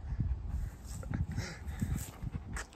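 A friendly dog whimpers and pants close by, with soft repeated whines and breathy pants over a low rustle.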